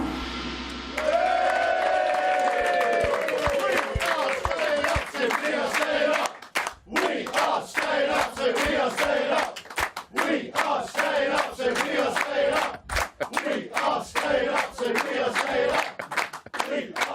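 A capacity studio audience on a TV show cheers and applauds loudly and continuously, with whoops and shouts rising over dense clapping throughout.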